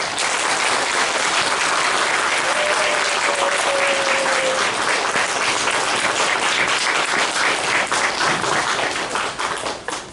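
Loud, sustained applause from a church congregation at a Sunday service, steady clapping filling the hall from start to finish, tapering slightly at the very end.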